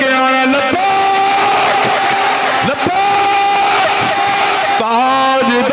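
A large crowd chants a religious slogan together in loud, sustained voices, with rising and falling unison calls and a brief dip near the middle, the group shout filling the whole stretch.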